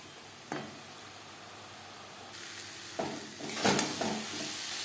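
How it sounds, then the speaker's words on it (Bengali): Onion and spices fry in a pan with salt and turmeric while a spatula stirs them, giving a continuous close sizzle broken by scraping stir strokes that grow louder toward the end. "কাঁচা গন্ধ যাওয়া পর্যন্ত নাড়াচাড়া করে নেব।"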